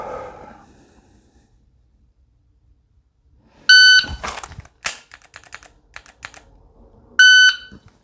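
Two sharp electronic shot timer beeps, each about a third of a second, the first followed by a rapid series of loud gunshot-like cracks, then silence.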